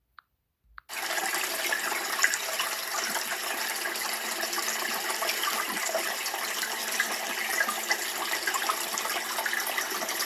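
Water flowing steadily at an old outdoor village laundry spot where fish now live, a continuous broadband rush that starts abruptly after a brief silence and holds even and fairly close for the rest of the clip.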